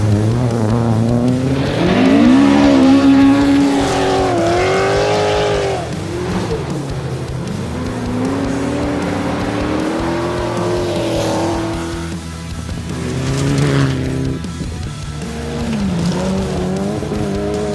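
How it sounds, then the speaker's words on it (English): Rally cars on gravel stages at Valley Stages 2025 rev hard and shift through gears in loud, rising engine sweeps, with a roar and surges of revs and no talking. "4 Baracatt-equipped cars are competing in Valley Stages this year."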